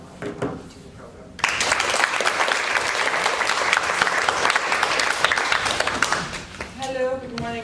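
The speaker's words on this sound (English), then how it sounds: "I want you to join me in a warm applause to welcome Ramy to the program." Warm audience applause greeting a lecturer at a university gender lecture series in Utrecht, starting abruptly after a few spoken words and continuing steady and full until a voice begins speaking at the end.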